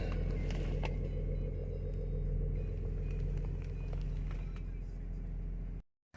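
A BMW X5 3.0 litre diesel with a newly replaced starter motor runs with a loud, steady low rumble that fills the cabin and cuts off sharply at the end.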